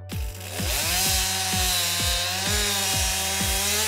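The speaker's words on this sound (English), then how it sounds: "a Tennessee State Park ranger with a chainsaw helps clear a safer path" A park ranger's chainsaw cuts on rugged mountain terrain while clearing a path, loud and close, its engine holding a steady high whine that bogs into a regular series of rhythmic load pulses as the chain bites, with no voices.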